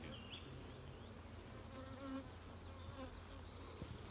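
Honey bees buzz in a soft, dense swarm hum, many wings droning at once, steady and somewhat distant, with no speech.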